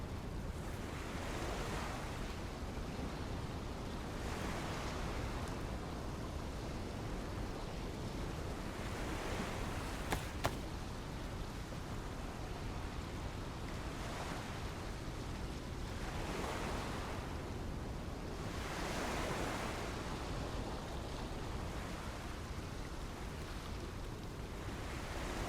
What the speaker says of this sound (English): Sounds like we got a hell of a storm coming along.